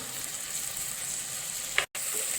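Prawn biryani masala sautéing in a pan, a soft, steady sizzle hissing throughout with one brief scrape of a spoon just before a short cut to silence.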